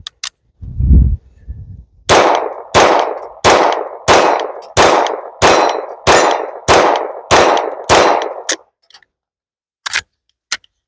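A SIG .22 pistol fed from a 10-round magazine fires about ten sharp, evenly spaced shots in a steady rhythm, with a couple of isolated cracks before and after the string.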